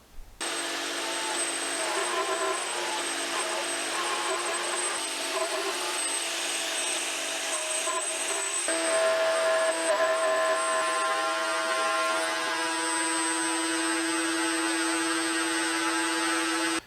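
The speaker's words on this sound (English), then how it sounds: "we're ready to cut mortises" A router cuts mortises into wooden Morris chair legs, a continuous loud buzzing whine that holds steady throughout, with its pitch shifting slightly partway as the cut changes.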